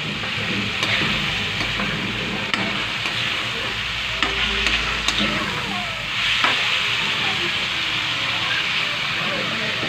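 Dried fish dropped into a pan of sautéing bottle gourd, a steady close sizzle and hiss with occasional stirring scrapes and clinks running throughout.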